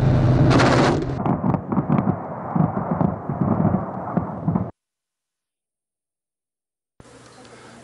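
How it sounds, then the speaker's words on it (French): Live-fire gunfire and explosions from sophisticated combat and maneuver helicopters during a military tactical demonstration exercise: loud, dense bursts and blasts for several seconds, then a sudden silence before a rumbling resumes. "les hélicoptères de combat et de manœuvre très sophistiqués et de haute qualité qui effectuent les tirs efficaces"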